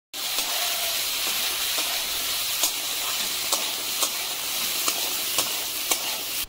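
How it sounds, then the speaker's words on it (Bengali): Cashews and raisins fry in refined oil with a steady, close sizzle, broken by small regular clicks and taps from stirring. "আর এইদিকে আমি কাজু কিশমিশটা একটু রিফাইন তেলে ভেজে নেবো"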